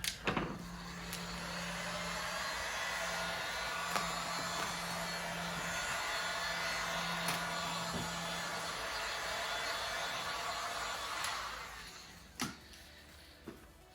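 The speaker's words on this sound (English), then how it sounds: "I'll just take the heat gun and we'll just work a little bit of heat around the outsides" A heat gun blows hot air around the edges of a Toyota Tundra taillight during tinting, a steady, fairly quiet whooshing roar lasting about twelve seconds before cutting off, with a few faint clicks afterward.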